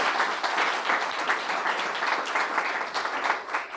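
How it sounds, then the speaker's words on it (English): An audience applauding after startup pitches at a tech event, a steady, dense burst of clapping heard close and continuous for a few seconds. "Big round of applause"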